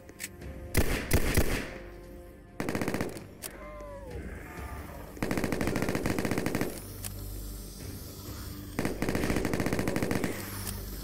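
Rapid bursts of automatic gunfire from a Roblox zombie-survival game crackle in several loud volleys, separated by short pauses and quieter game sounds.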